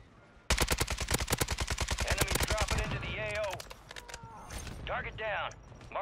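An AK-47 in the Warzone video game fires a long, rapid, loud burst of shots, followed by scattered shorter bursts and impacts. A voice talks over the later part.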